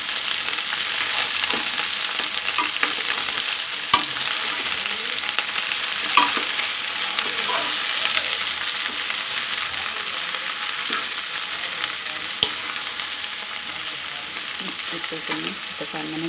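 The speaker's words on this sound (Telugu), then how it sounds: "ఇప్పుడు బెండకాయ ముక్కలు వేసుకుంటున్నాను. తిప్పుకోవాలి." Okra pieces frying in a pan for a pulusu, a steady broad sizzle running the whole time with intermittent scraping and stirring clicks from a utensil, fairly close and moderately loud, no voices.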